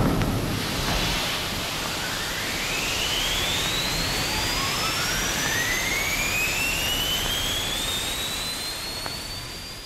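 Rocket engine firing after a countdown, captured in a 1958 stereo recording: a loud, steady roar of broadband noise lasting throughout, with rising whistling tones sweeping upward as it builds.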